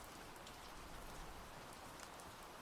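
Rain falls steadily in the video game For He Is King, a soft continuous hiss of drops that stays even throughout, with no voices over it.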